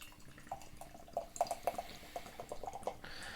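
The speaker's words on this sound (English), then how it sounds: "So let's get this beer out of the can and into the glass." Polly's Brew Company beer poured from a can into a glass, with quiet liquid trickling and a series of small drips and splashes, close and faint.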